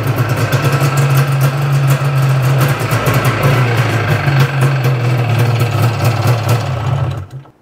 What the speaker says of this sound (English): fire it up. Let it sit here and idle and see if it leaks again.